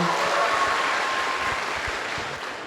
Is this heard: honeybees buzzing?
no